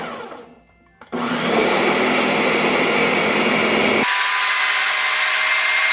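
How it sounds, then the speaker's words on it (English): A kitchen blender whirs through a batch of coquito, the holiday coconut drink, starting after a short pause, then running loud and steady before jumping to a higher, whinier pitch near the end. "Okay, now blend."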